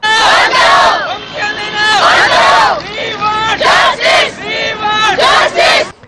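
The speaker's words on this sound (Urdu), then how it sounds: "شدید نعرے بازی کی" A loud crowd of young doctors protesting against a university administration chants slogans in rhythmic unison, voices rising and falling in repeated shouted phrases close by.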